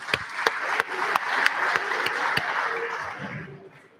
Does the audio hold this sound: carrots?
no